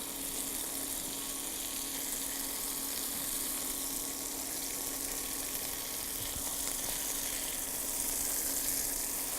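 Cheese frying in a pan, a steady, close sizzle hissing evenly throughout with a faint constant hum underneath and no voices.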